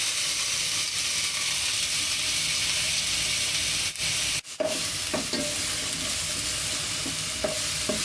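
Sliced onion, a piece of ginger and two or three garlic cloves sizzling in hot oil for Gobi Manchurian, a loud continuous fry with spoon scrapes and stirring clatter throughout.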